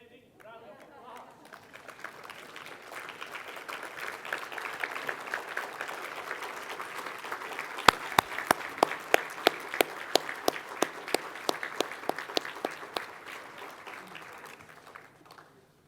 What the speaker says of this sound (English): can we give this fine lady a standing round of applause?